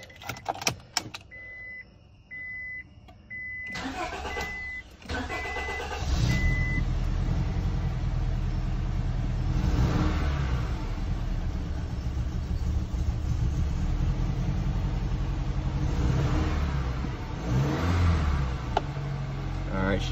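A Honda engine, freshly dosed with carb cleaner, cranks with a few short beeps and clicks, then catches and runs rough and uneven up close, a loud steady rumble with surging swells continuing to the end.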